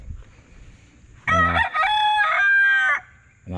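A rooster in a backyard chicken coop crows one loud, close, drawn-out cock-a-doodle-doo lasting under two seconds, preceded by soft low clucking and background hum.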